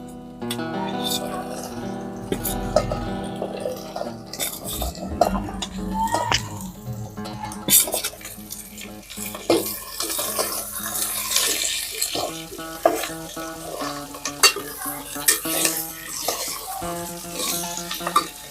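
Sliced potatoes and onions being stirred and sautéed in hot oil in a pan for a Maharashtrian potato bhaji, with a steady sizzle broken by clinks and scrapes of the spoon against the pan.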